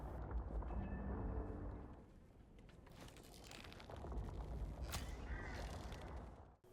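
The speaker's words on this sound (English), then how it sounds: "a crow sitting in the top right corner" A crow caws in the game Little Nightmares 3, with short harsh calls rising over a dense, dark ambient rumble that swells, dips, and returns across the scene.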